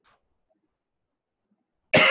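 A single sharp cough bursts out abruptly at the end after near silence, close and loud.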